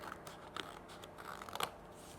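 Scissors snip through paper folded in half, a series of short crisp cuts spaced irregularly and heard close and quiet with no talking.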